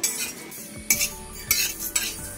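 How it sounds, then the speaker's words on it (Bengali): Bay leaves, cumin, fennel and five-spice being dry roasted in a pan, heard as a few sharp metallic scrapes and clinks of a utensil stirring against the pan, spaced irregularly with quiet gaps between. "এবার সমস্ত কিছু শুকনো খোলায় একটু ভেজে নেব।"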